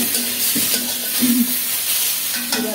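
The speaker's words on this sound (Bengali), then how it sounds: "সবগুলো ভালোভাবে কষিয়ে নিই" Spices and snake gourd pieces being sautéed in a pan sizzle loudly and close, with a spatula scraping and stirring through the mix in short strokes.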